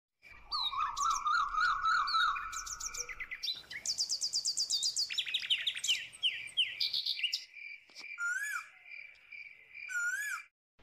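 Small birds chirp and trill in quick repeated phrases, a sparrow among them, with high whistled notes and a steady insect-like buzz running underneath, clear and close with no talking.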